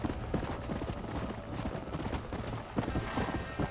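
Horse hooves clip-clop steadily in Red Dead Redemption, a continuous rapid patter of footfalls at close range with no talk over it.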